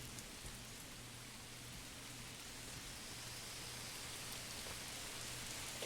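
Steady rain falls in the Manor Lords medieval city-building game, a constant soft hiss of drops on surfaces that holds even and unbroken throughout, with no voices.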